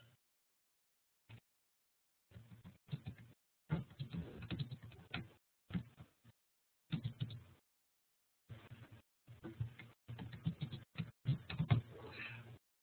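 Irregular bursts of keyboard typing, quick clicking keystrokes in short runs separated by pauses, close and fairly quiet.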